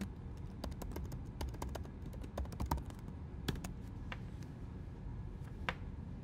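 Someone types on a computer keyboard in irregular bursts of crisp, close key clicks with short pauses between them. No one speaks.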